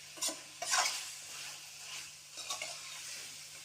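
Chicken pepper fry being stirred in a pan with ginger-garlic paste, onion and chilies, giving a few close scraping strokes over a steady soft sizzle.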